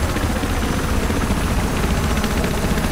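Helicopter in the Battlefield 4 video game, a loud, close, continuous rotor thump and engine roar filling the whole stretch without pause.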